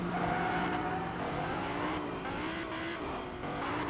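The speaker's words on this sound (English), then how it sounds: "every car can drift" A car drifting in the video game Fortnite, an engine roar blended with a steady tire squeal, continuous and fairly close but at low level, with no voices.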